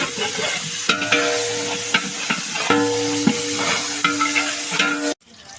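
Mint leaves fry in a large pot for a 6 kg mutton dum biryani, a steady sizzle with repeated scraping stirs and clinks, stopping suddenly at the end.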